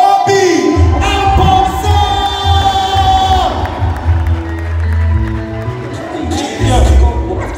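Live crowd at a Ghanaian comedy show cheers, whoops and shouts for comedian OB Amponsah, loud and excited, mixed with music and an MC's amplified voice.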